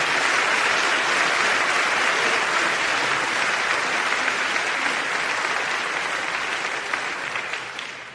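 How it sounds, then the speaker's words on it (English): A church congregation at Abyssinian Baptist Church in New York applauds Reverend Butts with a dense, loud, sustained round of clapping that tapers off slightly near the end. "Let's give him a round of applause"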